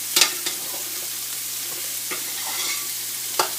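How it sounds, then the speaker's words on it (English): Mutton stew meat stirred in sauce and hot oil in a pot, a constant low sizzle broken by several sharp scrapes and clinks of the spoon, with no one speaking. "I'm going to stir the meat, keep stirring it"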